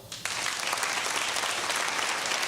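An audience at a talk claps together, the applause bursting in after a brief quiet moment and holding as a dense, steady roar of hands through to the end.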